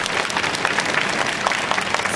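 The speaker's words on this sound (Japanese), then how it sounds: "もう一度大きな拍手。" Steady, dense crowd applause for the judges at a youth dance festival, many hands clapping at even strength throughout the short stretch, fairly close and without talk.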